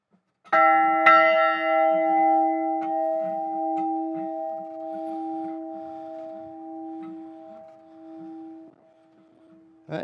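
A bell mounted on a piece of oak is struck once, giving a clear ringing tone that decays slowly over several seconds, with faint rustling beneath it and another strike starting at the end.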